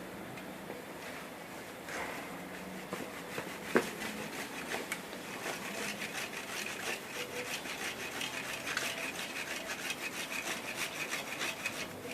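Handsaw cutting lengthwise along a tree branch, a steady rasping stroke rhythm repeating throughout, fairly close and continuous, with no talk over it.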